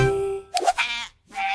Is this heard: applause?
no